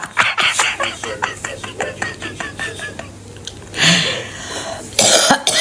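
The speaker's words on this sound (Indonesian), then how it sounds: "Aduh, sampai batuk deh tuh." Several harsh, rapid coughs come in a clustered series, followed by breathy, whispery sounds and a loud rough burst near the end.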